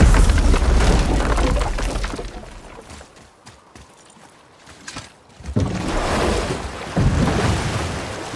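Oars pull a boat across open water in the video game God of War, loud splashing and wave wash rising and falling in surges, quieter in the middle before the rushing water swells again.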